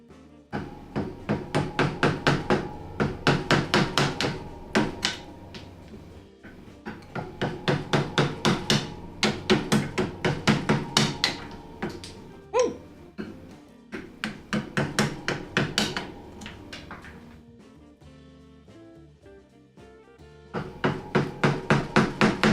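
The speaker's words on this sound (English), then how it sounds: "Brandon, let's not get chisel stuck in there." A chisel is driven into wood with a hammer while making a scrap-wood shelf, in quick bursts of sharp, close strikes separated by short pauses.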